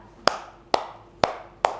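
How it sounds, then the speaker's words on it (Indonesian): Four sharp hand claps ring out one at a time, evenly spaced and crisp, each with a short echo trailing off in a quiet room. "Kalau tepuk satu kayak gini"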